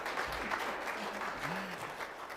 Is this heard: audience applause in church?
yes